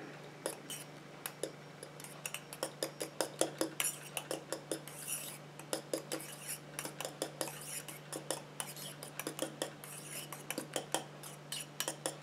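Homemade coconut and donkey milk shower gel is stirred with a utensil in a container, giving quick close clinks and taps in a fairly steady rhythm over a low hum.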